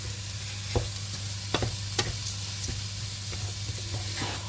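Rice frying with minced meat in a pan, stirred now and then, gives a steady close sizzle with a low hum beneath and several sharp scraping strokes of the spoon against the pan.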